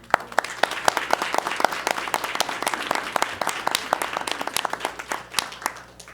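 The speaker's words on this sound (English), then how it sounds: "So applause to them." A board meeting audience applauds coaches, a scattered, fairly close patter of individual claps of uneven rhythm, steady throughout without voices.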